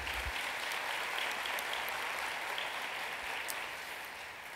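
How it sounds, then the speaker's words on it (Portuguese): Congregation applauding during an evening church service, a broad, even clapping wash that sounds somewhat distant and soft, holding steady before easing slightly at the end. "Você pode aplaudir a Jesus aí?"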